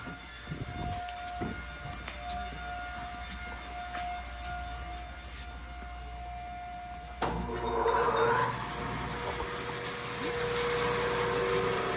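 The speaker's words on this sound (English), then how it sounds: "Let's go bandsaw this off." A bandsaw cuts through wood in a workshop, where a steady motor whine runs first, then the blade bites in and a louder, rougher rasping cut carries on to the end, with no speech.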